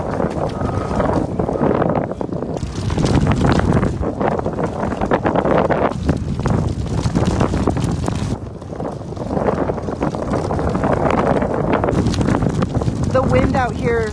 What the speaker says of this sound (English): The wind out here is so intense. You guys can probably hear it.